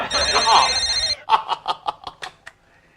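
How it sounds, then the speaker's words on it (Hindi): A telephone rings with a bright electronic trill, followed by several short repeated rings that fade out, close and clear. "मिस्टर रोहन, वाकई ऊपर से फोन आया"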